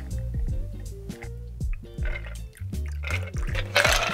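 A cocktail is poured over ice cubes in a rocks glass, giving liquid glugs and drips with rising filling tones and clinks, close and moderately quiet, ending with a brighter splash.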